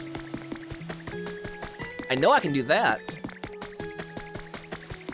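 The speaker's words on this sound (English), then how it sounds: "I can spray them with water." Water sprayed onto Pokemon in the video game Pokopia, a short liquid gush of about a second rising out of a busy background of small game sounds, with a person talking before and after.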